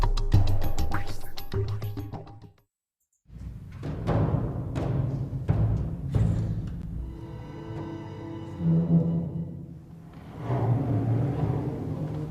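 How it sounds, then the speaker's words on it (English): Solo bass drum in a concerto performance gives a varied sequence of booming strikes, rubbed rumbles and ringing resonances, with a short silent pause, loud and reverberant and played alone. "I had no idea that one could produce sounds like this on bass drum."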